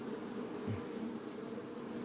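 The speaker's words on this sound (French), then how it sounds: "En ce moment, les abeilles, elles sortent, elles volent." A steady, dense buzz of honeybees flying out of a hive entrance while gathering nectar and pollen, a continuous droning hum close by with no voices.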